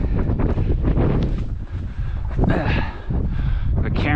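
Strong gusty wind buffets the microphone during a rocky mountain scramble up Browns Peak in the Four Peaks, a loud continuous rumbling roar that swells and dips, with a voice speaking underneath.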